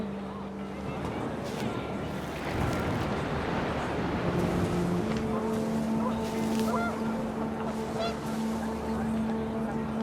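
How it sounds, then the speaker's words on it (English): Panicked geese honk briefly amid a windy outdoor scene in the video game What Remains of Edith Finch, their calls blended into a dense, steady wash of wind and background score. "The wind picked up and panicked geese appeared and quickly went."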